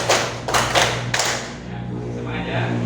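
Children clap together in a classroom: a few loud, sharp group claps in quick rhythm that then fade into room murmur, with a low steady hum underneath.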